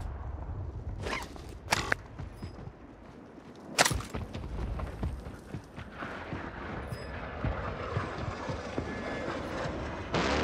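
A train rumbles past in a Call of Duty match, a steady rolling clatter under sharp, loud gunshot bursts and distant battlefield noise.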